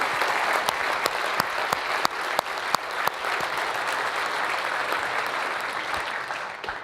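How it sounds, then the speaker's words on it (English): An audience at a business chamber event applauds its sponsors, a room full of clapping with sharp individual claps standing out near the front, the applause holding steady and then tapering at the end. "Now is when we can all applaud and thank our sponsors."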